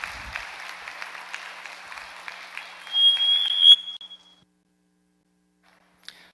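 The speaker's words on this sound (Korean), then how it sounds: "우리 큰 박수로 환영과 함께 모시도록 하겠습니다." A church congregation at a Sunday worship service applauds to welcome a guest speaker. The dense clapping lasts about four seconds, then fades into silence, with a brief high ringing tone near the end.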